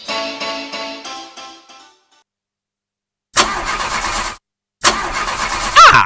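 A car engine in a radio advert cranks and fails to start, a loud close whirring crank, then two more separate grinding attempts after short pauses, each cutting out without catching, with no talking.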